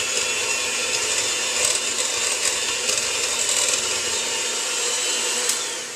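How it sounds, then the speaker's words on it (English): An electric mixer beats banana cream pie ingredients in a bowl with a loud, steady motor whir and scraping hiss that holds throughout, then tails off at the very end. "I'm going to turn on my mixer and we're just going to beat this up"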